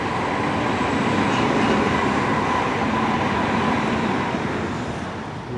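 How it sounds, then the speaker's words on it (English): A train passes over a bridge at night in the rain, a loud, continuous rumble and clatter that stays steady and then slowly fades toward the end. "There's another train."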